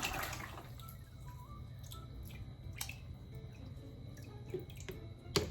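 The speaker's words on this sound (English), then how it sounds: "you put it into the fish tank, and then you pour it out on the side" Water splashes and drips during a fish tank water change, with scattered droplets and small trickles falling at close range, irregular and fairly quiet, with no talking.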